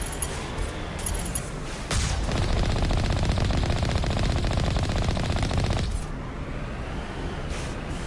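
Rapid automatic cannon fire from the Mako vehicle in Mass Effect, a sustained loud burst of fast repeating shots lasting about four seconds, preceded and followed by quieter game ambience and lone impacts.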